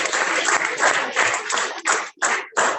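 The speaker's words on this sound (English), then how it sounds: "Keep clapping." An audience at an International Day of Education event claps steadily in dense bursts that break into a few separate rounds toward the end.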